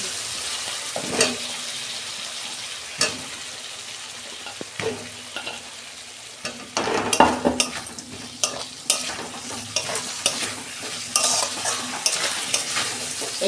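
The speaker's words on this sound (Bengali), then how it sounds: "আমি ভাজা আলুগুলো দিয়ে দিচ্ছি।" Fried potatoes stirred into cooked-down masala of coriander powder and a little sugar in a pan for a Bengali dal bara and potato dish, giving steady scraping stirs over a soft continuous sizzle with a few sharper clatters.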